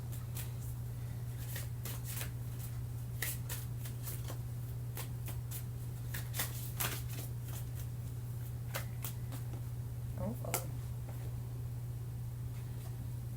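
Oracle cards are shuffled and pulled by hand in a quiet room, a string of soft, close riffling taps and flicks scattered irregularly over a steady low electrical hum.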